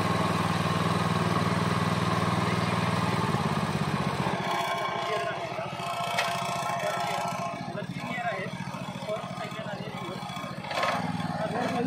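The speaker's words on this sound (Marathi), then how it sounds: "थ्रोटल थोडासा द्यायचा आहे न्यूट्रल करायचा ट्रॅक्टर" A tractor engine idles in neutral with a steady, low, throbbing drone. The tone shifts slightly a few seconds in, then the engine keeps running evenly, close by.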